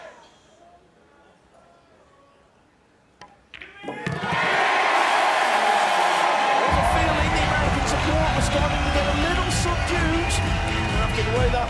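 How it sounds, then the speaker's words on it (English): Crowd at a professional darts match, quiet murmur at first, then a sudden swell into loud, sustained cheering and chanting that fills the arena and holds steady to the end. "Let's hear the crowd for a moment first."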